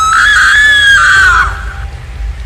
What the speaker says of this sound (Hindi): इस हवेली के अंदर से किसी के चीखने चिल्लाने की आवाज आ रही थी